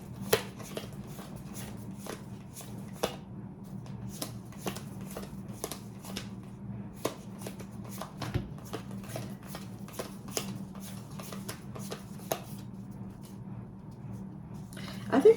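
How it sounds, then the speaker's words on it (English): Tarot cards are flipped through in a deck, giving quiet, scattered crisp snaps and slides at an irregular pace over a low background hum. "So let me just look for the Five of Swords in this deck quickly."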